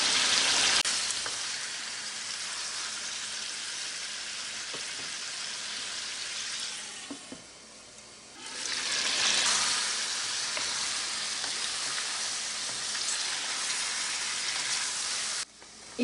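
Chicken pieces frying over high heat in a karahi, with a steady loud hiss and crackle close by that dips briefly midway before resuming at full strength.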